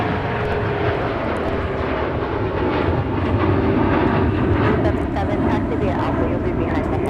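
A Delta airliner takes off from Minneapolis–Saint Paul airport, a broad, loud jet roar that holds steady and swells slightly toward the middle, with a voice speaking over it.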